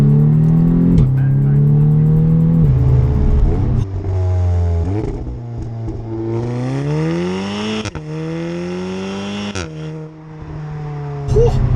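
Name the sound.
turbo car engine and exhaust revving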